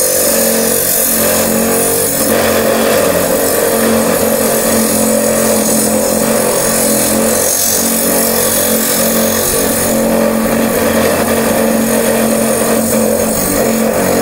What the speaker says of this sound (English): Now you can do the grinding of the other side.